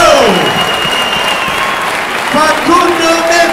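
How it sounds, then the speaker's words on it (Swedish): Crowd at an amateur MMA event applauding, a loud continuous burst of clapping and crowd noise with an announcer's voice running over it. "En varm applåd för en fantastisk show!"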